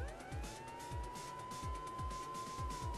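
A wailing siren tone sweeps over RPG battle music with steady rhythmic bass thumps, all fairly quiet and continuous.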